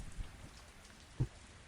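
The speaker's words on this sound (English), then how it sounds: "The rain." Rain falls in a soft, steady patter with a few low dull thumps, one slightly stronger, quiet and without talk.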